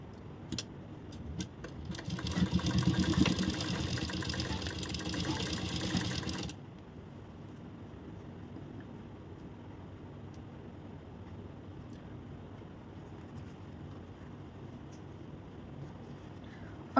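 A sewing machine stitches the neck part of a blouse, running in a loud, steady mechanical whir for about four seconds before stopping, followed by a quiet room with faint background noise.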